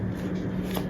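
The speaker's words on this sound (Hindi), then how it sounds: "एक कार्ड और लेते हैं। Okay, let's take 1 more card" A tarot card slides from a shuffled deck, a brief soft papery rustle and flick with a faint hum underneath.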